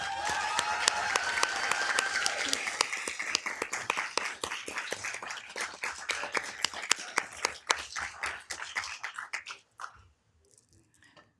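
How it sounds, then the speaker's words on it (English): Applause from a crowd at a city council meeting in Downey, welcoming a new councilmember to the dais; steady clapping that tapers off near the end and stops into near silence. "Can we get a round of applause for that?"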